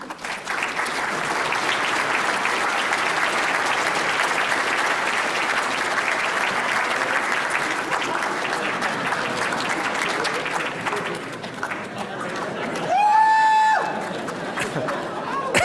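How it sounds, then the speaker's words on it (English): A large audience at a National Academy of Sciences award ceremony applauds loudly and steadily for about twelve seconds; the clapping then fades and a short voice follows. "I told you that there would be cheering sections."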